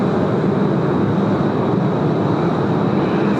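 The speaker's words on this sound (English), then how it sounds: "next arrival, All Nippon 879 arriving from Tokyo as well." All Nippon Airways Boeing 787-9 arriving at Sydney Airport, a steady broad roar of jet engines that holds level and loud throughout with no voices.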